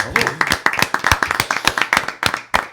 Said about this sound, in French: Ok, on applaudit Nance